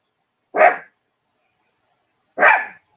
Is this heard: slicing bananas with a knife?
no